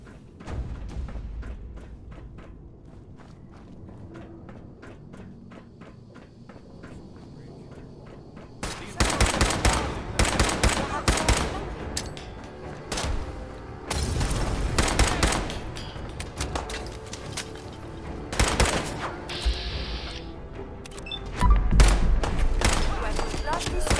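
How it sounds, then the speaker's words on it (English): Rapid sniper and rifle gunfire in the video game Fallout 4, a quiet stretch followed by loud repeated volleys of close shots with thuds, under occasional talk. "I believe a sniper resuming combat operations."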